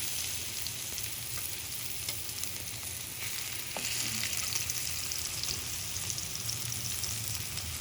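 Marinated chicken shallow frying in oil, a dense, steady hiss of sizzling that carries on without a break, with a faint knock or two along the way.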